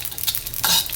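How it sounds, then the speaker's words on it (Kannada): Cardamom and poppy seeds are dry-roasted in a pan, giving a brief close hiss of light sizzling with quick stirring scrapes, and no voices. "ಮಸಾಲೆನ ಹೊತ್ತಿಸ್ಕೊಳಕ್ಕೆ ಹೋಗ್ಬೇಡ್ರಿ, ಇಷ್ಟೇ ಹುರ್ಕೋಬೇಕು."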